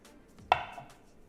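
A single crisp knife chop through a hard-boiled egg, cut lengthwise on a board, one close sharp tap with a short ringing tail in a quiet kitchen.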